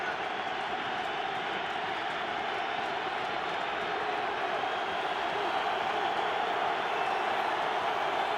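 Steady, dense roar of a large stadium crowd at a 2007 NFL game between the Cleveland Browns and San Francisco 49ers, a continuous wash of voices that holds level and loud throughout with no distinct breaks.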